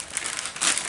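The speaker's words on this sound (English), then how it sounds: "now we're going to take off the cellophane" Cellophane crinkles steadily as it is peeled off a bowl of PA Dutch friendship bread starter, a close, continuous rustle that swells briefly near the end.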